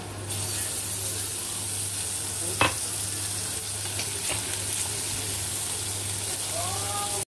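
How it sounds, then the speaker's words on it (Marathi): Onions fry in hot oil in a pan with a steady hiss as a crushed chili and garlic paste goes in, giving one brief louder splutter before the sizzle continues evenly. "आता हे आपण ठेचा केला ना मिरची आणि लसूणचा, ते टाकून घेऊया"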